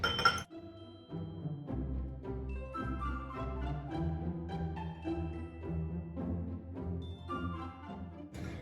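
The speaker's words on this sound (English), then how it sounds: "And then we're gonna whisk that all together until it's nice and combined." Butter with brown and white sugar being whisked in a bowl for chocolate chip cookie dough produces a quick, continuous run of ringing clinks as the whisk strikes the bowl, close and without speech.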